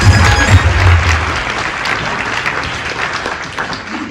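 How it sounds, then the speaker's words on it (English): An audience at a community radio awards ceremony claps loudly, a dense burst of applause that starts strong and then gradually thins and softens. "I've had my first ever round of applause and my second ever round of applause"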